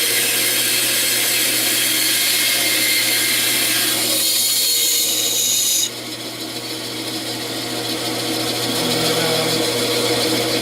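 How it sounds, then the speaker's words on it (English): A 12-inch bandsaw with a 1/4-inch blade cuts wood with a steady, close, loud rasping whine, the tone shifting and easing partway through as the cut continues. "this is a 12-inch bandsaw with a"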